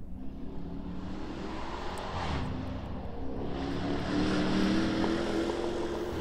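A low, steady car engine rumble drones in the background on a golf course, building gradually louder over several seconds, with no talking.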